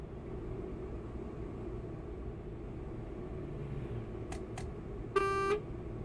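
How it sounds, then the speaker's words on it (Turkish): A Travego 16 SHD bus in Euro Truck Simulator 2 gives two short bursts of its air horn, then a single brief blast of the normal horn. Both come over the steady low engine rumble of the game, with no talk. "Kornalarımız bu şekilde standart. Havalı korna ve normal korna."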